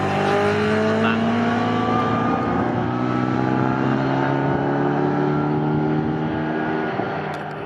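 Historic pre-1963 and 1950s race cars thunder around the Snetterton circuit, a dense, continuous engine roar with several cars' sustained harmonic drones layered together, loud and close throughout.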